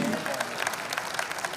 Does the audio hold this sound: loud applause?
yes